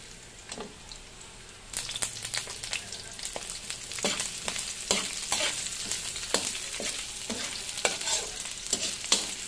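Sliced bitter gourd sautéing in a pan for a simple home dish, with a soft steady sizzle and repeated sharp scrapes and clacks of a utensil stirring the pieces, louder once the stirring picks up.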